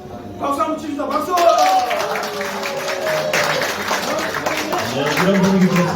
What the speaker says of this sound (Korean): 박수 한번 칩시다. 박수!